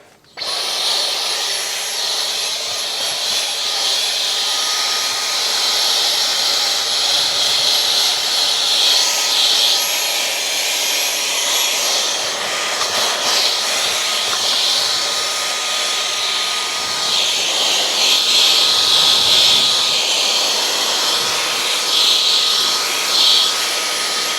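A cordless Dyson vacuum cleaner runs steadily inside a Tesla car interior with a high-pitched whine, its motor drone holding fairly constant throughout with slight shifts in pitch.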